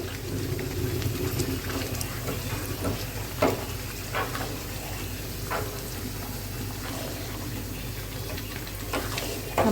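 Chicken cooking in a pan with spices and sauce for biryani, a steady close sizzle and bubbling with occasional stirring clinks and scrapes.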